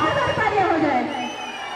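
An audience at a singing show cheers and applauds in a brief, dense burst of crowd noise with mingled voices, loud and close throughout, then tapering slightly toward the end.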